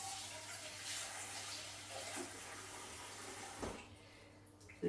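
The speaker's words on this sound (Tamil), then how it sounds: "கொஞ்சம் தண்ணி சேர்க்கும்." Water splashes and pours into a pot of fish curry being cooked, a soft steady stream with a low hum underneath and a brief clatter near the end.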